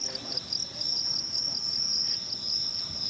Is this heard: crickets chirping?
yes